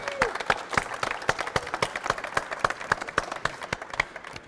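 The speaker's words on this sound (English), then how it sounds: "And could we have an applause for all of them for their very good radio work?" An awards ceremony audience claps for radio prize winners, loud sharp individual claps from a modest crowd in an uneven rapid rhythm, close and steady throughout.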